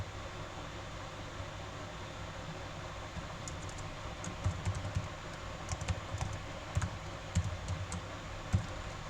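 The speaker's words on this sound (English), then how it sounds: "I'll type it quickly." Quick typing on a computer keyboard during a live software demo, a steady patter of key clicks over a constant fan-like hiss, close and fairly soft with no speech.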